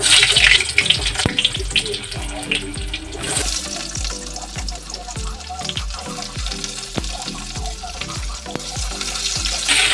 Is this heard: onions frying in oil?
yes